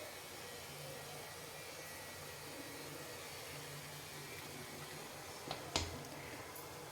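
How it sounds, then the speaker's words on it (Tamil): Water boiling in a pressure cooker left without its weight, a steady soft rushing hiss that holds evenly, broken near the end by a brief clatter. "குக்கரில் தண்ணி கொதிக்க ஆரம்பிச்சிருச்சு."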